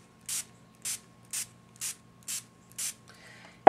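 Spray paint sprayed over a stencil in six short, evenly spaced hissing bursts, close and crisp, with near silence between them and a faint rattle at the end.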